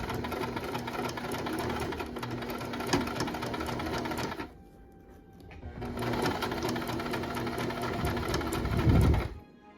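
A sewing machine stitches in the ditch on a vintage blouse made from Simplicity pattern 8593, humming steadily and close, pausing briefly midway, then resuming and speeding up before stopping.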